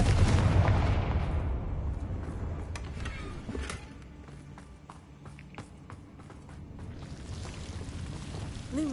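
Repeated spell blasts and explosions from the Confringo and Bombarda spells in Hogwarts Legacy on PS5, a dense run of loud booms and sharp bursts over a rumbling game soundscape.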